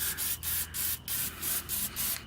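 Repeated short bursts of aerosol cleaner hissing onto a Honda Integra engine plate, about eight quick sprays in a steady rhythm, close to the microphone.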